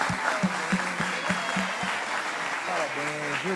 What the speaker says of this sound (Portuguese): Vamos aplaudir mais uma vez as crianças.